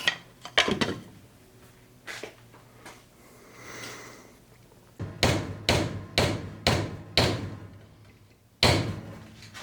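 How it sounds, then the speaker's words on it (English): A wooden shelf leg being hammered into place, with sharp, loud wooden knocks in irregular bursts, a quieter pause between groups, and several evenly spaced blows toward the end. "I'm just gonna have to hammer it in again"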